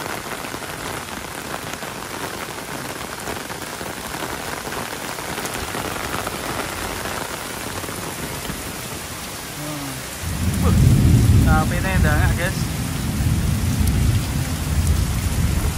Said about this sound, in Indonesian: sapi-sapi lagi menikmati hujan juga ini.